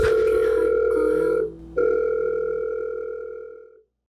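A telephone call to an insurance company, heard as a steady dual-tone dial or ringback tone that holds for over a second, breaks off briefly, then resumes and fades out; no voices.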